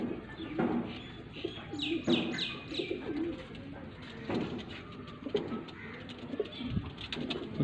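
High flyer pigeons coo repeatedly at close range in a loft, with soft rhythmic throaty calls and faint rustling around them.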